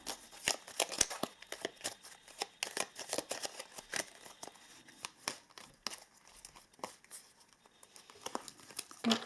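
Chakra Love oracle cards being shuffled by hand, a steady run of soft crisp riffles and papery crinkles, close and fairly quiet with no talking.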